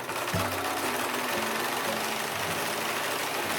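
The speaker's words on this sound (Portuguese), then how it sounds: "Então vamos costurar essas 2 partes que a gente alfinetou." A sewing machine stitches two pinned apron pieces together, a close, steady mechanical whir with a few faint thumps over a constant hum.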